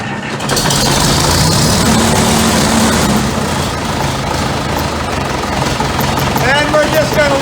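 A Minneapolis Moline M602 tractor engine rumbles at a steady idle close by after starting, with a brief metallic squeal near the end.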